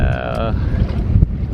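Strong wind gusting across a fishing boat on rough water along Florida's Nature Coast, a loud steady rush buffeting the microphone, with a brief tonal whine early on.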